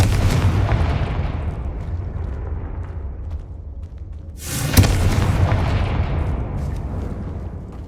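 In Hogwarts Legacy, a Confringo blast spell strikes a barricaded archway with a sudden heavy boom, trailed by rolling rumble and crumbling debris over a low ongoing roar.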